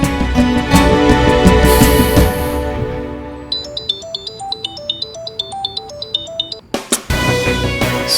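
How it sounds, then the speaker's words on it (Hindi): An unanswered phone rings with a repeating electronic melody of bright, evenly spaced tones, loud and close, between stretches of dramatic background music. "सुमो फिर फोन नहीं उठा रही है।"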